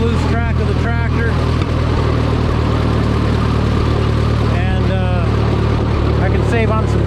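An old tractor engine idles steadily nearby with a loud, constant low rumble, and brief higher chirping sounds rise over it now and then.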